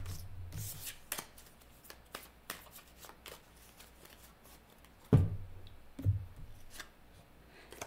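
Tarot cards are shuffled and drawn nearby, with soft riffling and flicking, then a few sharper slaps as cards are laid down, with quiet pauses in between.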